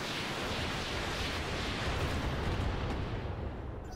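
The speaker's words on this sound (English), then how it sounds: "so we're going to fire everything on him." Mech weapons firing together in the Roguetech mod of BattleTech, a dense roaring wall of blasts and explosions that holds steady for several seconds and then starts to fade.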